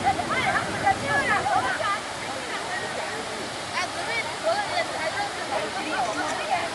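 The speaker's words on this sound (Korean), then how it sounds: "제주도 천지연 폭포" Cheonjiyeon Waterfall on Jeju Island roars steadily nearby as a broad, continuous rush of falling water, with people talking over it.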